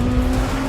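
Porsche 963 LMDH prototype race car running at the Goodwood Festival of Speed, a steady loud engine drone with a sustained tone and some tyre noise, continuous throughout with no talking.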